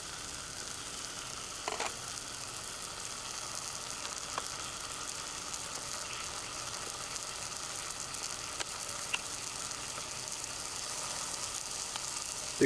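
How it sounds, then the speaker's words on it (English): Butter sizzles in a pan with steak while camping beside a pickup truck, giving a steady, even hiss that lasts the whole stretch, with a few faint clicks and pops. "now I'm gonna put 2 tablespoons of butter in there."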